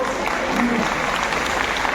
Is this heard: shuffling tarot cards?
no